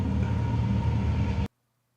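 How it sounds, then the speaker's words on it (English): A train rumbles steadily close by, a broad low roar lasting about a second and a half before cutting off abruptly into silence. "Here comes the train."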